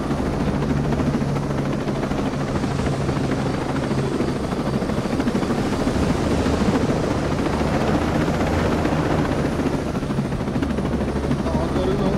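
In the video game Ghost Recon Breakpoint, a damaged helicopter's engine and rotor give a constant loud drone and chop from inside the cabin. It runs unbroken throughout, with faint talk underneath.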